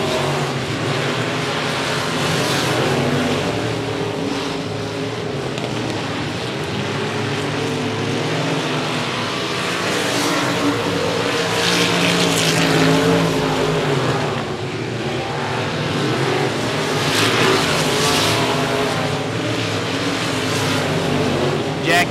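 Race cars circling an oval at 105 Speedway during a regular race program, a steady engine roar rising and falling as the pack passes, with a race announcer talking over it the whole time.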